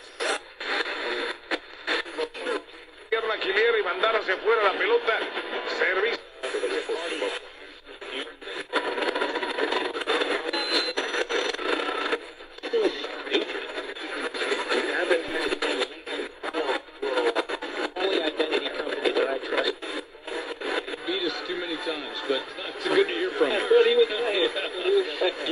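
Studebaker SB2000 Limited Edition AM FM portable radio being tuned across the AM band, passing through fragments of broadcast voices, static hiss and whistling tones, continuous with brief dropouts between stations.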